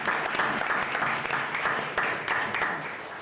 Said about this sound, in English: they do deserve a round of applause